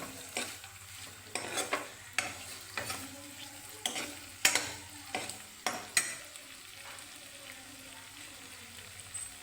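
A paneer masala mixture of regular home spice blend and ground paste fries in oil in a pan, giving a soft steady sizzle. Repeated scraping stirs of a spoon against the pan sound close by.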